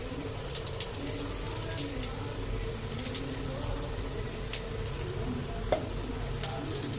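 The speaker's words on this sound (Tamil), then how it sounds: "அப்படி எண்ணெய் தடவி இந்த ஒவ்வொரு கட்லெட்டும் அங்கே அப்படி வச்சிடலாம்." Cutlets frying in oil in a pan give a steady, fine crackling sizzle with scattered sharp pops, close and moderately loud, running throughout with no talk over it.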